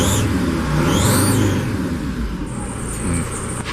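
A Mercedes T1N van engine runs steadily and loudly right after its fuel pump is switched on, a constant low mechanical drone with faint high whines on top.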